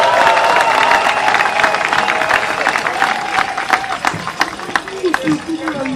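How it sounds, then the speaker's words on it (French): Crowd applause and cheering at a political candidate reception ceremony in the Grand Kasaï region, a dense, sustained wash of clapping with voices mixed in throughout. "Que je vous demande d'applaudir encore très fort."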